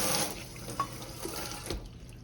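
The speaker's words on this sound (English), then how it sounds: "Put a little drop of hot water in here, y'all, just to kind of loosen it up just a little." Hot water running and trickling as a small drop is added to old-school hollandaise sauce in a kitchen, a soft continuous faucet-like flow with a few faint drips, close and fairly quiet.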